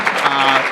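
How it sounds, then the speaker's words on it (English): A conference audience at a closing session bursts into applause, a short, dense burst of many hands clapping close by. "you guys clapped too early"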